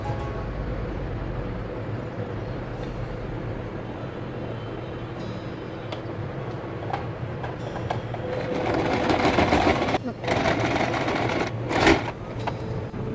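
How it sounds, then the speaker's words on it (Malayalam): A sewing machine stitches around the edge of a homemade cotton face mask, its steady mechanical whirr running continuously and growing louder and busier toward the end, with no voices. "ഇനി നമുക്കിത് ഉള്ളിലേക്ക് വെച്ചിട്ട് ഒന്ന് ചുറ്റിനെ അടിച്ചു കൊടുക്കാം."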